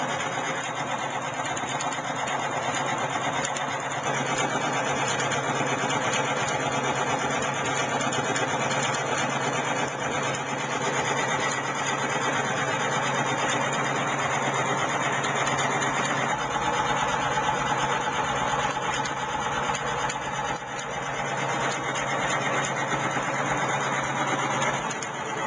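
A fuelless electric motor driven by a 1200-volt DC coil runs with a steady, even mechanical whir and buzz, constant and fairly loud throughout with no pauses.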